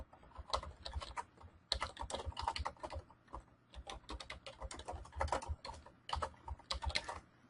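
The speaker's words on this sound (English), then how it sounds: "I'm going to go ahead and type in the place." Someone types a place name on a computer keyboard in genealogy software, with rapid, close, steady key clatter in uneven bursts throughout and no talking.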